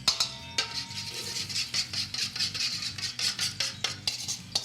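Onions are stirred into gravy in a pan, a spoon scraping and clinking against the metal in quick, repeated strokes, close and fairly loud, with no voices over it.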